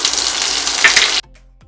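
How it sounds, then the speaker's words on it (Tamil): Ginger, garlic and curry leaves sauté in a pan with a loud, steady hiss and crackle that cuts off abruptly after about a second, leaving near silence. "இது எல்லாத்தையும் சேர்த்து நல்லா வணக்குங்க"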